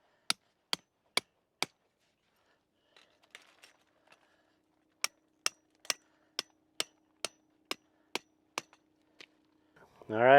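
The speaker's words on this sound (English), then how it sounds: "I just take my little mini sledge, hammer those right in, it keeps it put." Mini sledgehammer driving big nails into hard desert dirt: four sharp metallic blows in quick rhythm, a pause with faint rustling, then about ten more evenly spaced strikes, close and crisp, before a brief burst of noise at the end.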